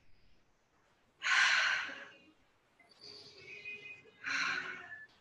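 A person takes deep, audible breaths during a slow vinyasa yoga flow: a long, strong inhale-exhale, a softer and longer breath, then another full, forceful breath, all close and unaccompanied.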